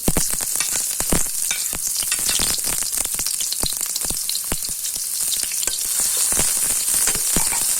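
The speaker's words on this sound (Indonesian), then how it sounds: "Ditumis hingga harum. Diputer-puter." Shallots and garlic sautéing in a hot pan, a loud, dense crackling sizzle throughout with sharp spattering pops and stirring, no voices.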